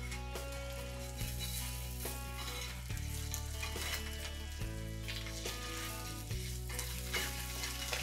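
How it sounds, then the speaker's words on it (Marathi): Eggs frying in masala on a hot tawa, a steady loud sizzle that carries without a break, with music playing in the background throughout. "आपल्याला ही अंडी 1 मिनिटभर असं चांगली परतून घ्यायची"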